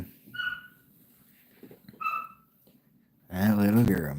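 A small female dog barks and yips a few times at moderate distance, short sharp bursts separated by quiet, followed by a person talking close by.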